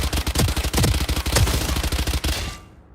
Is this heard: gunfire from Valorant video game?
yes